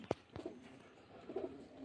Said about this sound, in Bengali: এগুলো সব মুর্শিদাবাদের গিরিবাজ লাইনের পায়রা, সব দেশি পায়রা সব